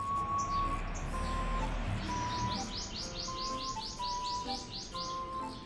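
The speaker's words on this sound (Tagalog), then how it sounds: "May ibon." Birds chirp repeatedly in quick bright bursts, a steady run of tweets over a faint background hum, fairly close.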